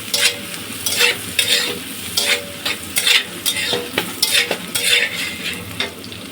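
Diced onion and spice paste with cumin and panch phoron fry in a pan, a busy crackling sizzle broken by rhythmic spatula strokes and stirs that scrape and clatter close by.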